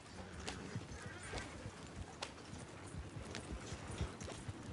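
Horses in the game Red Dead Redemption 2 clip-clop in a continuous hoofbeat rhythm over a rough ground, with a brief whinny mixed in and no talking.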